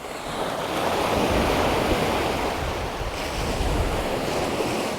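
Sea waves wash in at Galway Bay by a ramp on the Connemara shore at Spiddal, a loud continuous surf roar with wind buffeting the microphone and no talk.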